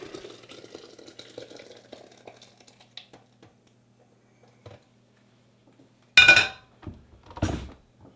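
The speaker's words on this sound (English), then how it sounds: "We pour the soup right into the blender here." Beer cheese soup pours steadily into a blender with soft splashing and clinking, followed by two short, loud bursts of sloshing and clatter close by.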